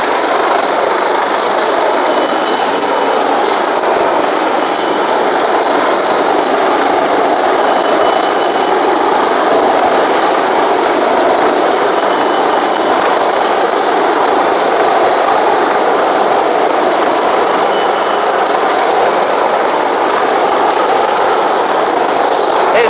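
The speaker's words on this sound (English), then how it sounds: "Helicopter will move away now." A rescue helicopter drones loudly and steadily overhead above a boat at sea, a constant heavy rotor and engine roar throughout with no other sounds.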